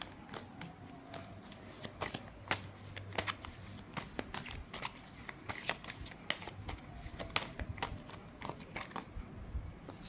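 Tarot cards being shuffled by hand, a soft, steady run of papery riffles and slaps at close range, quiet overall and without talking.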